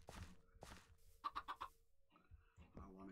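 Chicken clucking in the Minecraft FTB Skies video game comes as a quick run of four or five sharp clucks in the middle, with other in-game sounds and brief noises around them.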